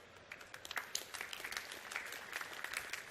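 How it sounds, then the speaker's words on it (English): Moderate applause from the audience at an AI pitch battle, with individual claps distinct and fairly close, rising and falling over a few seconds. "So baseline applause."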